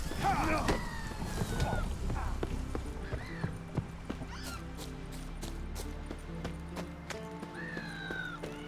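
Horse hooves clip-clop steadily at a walk in the video game The Witcher 3: Wild Hunt, with a whinny near the start and occasional neighs.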